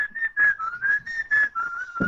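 A person whistles a steady, wavering tune in short phrases, clear and close, with no talking.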